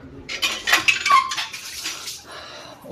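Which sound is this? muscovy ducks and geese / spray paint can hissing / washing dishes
washing dishes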